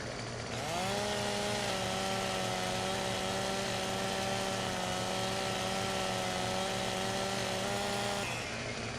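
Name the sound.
chainsaw cutting a tree in Farming Simulator 17 video game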